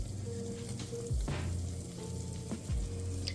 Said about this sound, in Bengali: খুব সুন্দর করে বলক দিচ্ছে